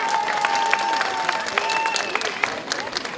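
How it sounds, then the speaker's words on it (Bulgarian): Festival audience applauding young folk performers on stage: steady, dense clapping from a crowd, fairly loud and continuous throughout, with a faint tone and voices mixed underneath. "Още веднъж да ги изпратим с аплодисменти."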